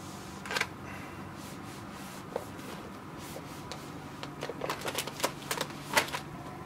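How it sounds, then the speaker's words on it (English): Plastic wrapping is peeled and crinkled off a new Amazon Echo at close range: soft, quiet rustling with scattered sharp crackles that grow busier toward the end. "But first I got to take off all of the plastic."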